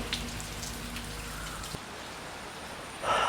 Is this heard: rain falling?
yes